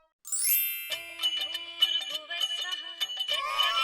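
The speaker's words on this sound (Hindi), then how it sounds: "ये आनंद दादा का फोन है।" A phone ringtone plays a bright, melodic electronic jingle of quick repeated notes, clear and close, with no one speaking.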